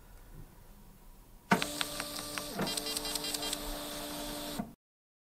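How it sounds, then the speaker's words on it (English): Honeywell PX940 label printer precision printing a 1-inch by 1/4-inch label, a sudden motorized whir with rhythmic clicking feed pulses lasting about three seconds, close and clear after a quiet start. "We're going to show an example of precision printing on a 1-inch by 1/4-inch media."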